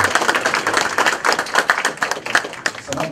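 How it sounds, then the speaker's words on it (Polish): Audience clapping for a director at a job fair, a dense, steady patter of hands over about three seconds, fairly close and lively, with a little voice mixed in. "Naprawdę, Pani Dyrektor, wielkie brawa."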